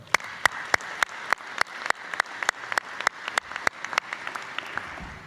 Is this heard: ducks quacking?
no